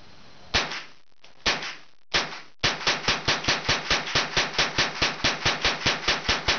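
Ruger 10/22 rifle with a BX-25 magazine fired from the hip: a few spaced shots, then a fast steady string of about twenty sharp, close, loud reports.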